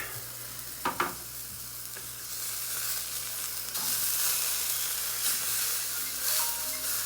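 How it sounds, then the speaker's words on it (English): Butter and garlic sizzle in a hot pan alongside a searing steak, a steady frying hiss that swells louder midway, broken by a couple of sharp clanks near the start. "Our butter and garlic is melting down nicely in there."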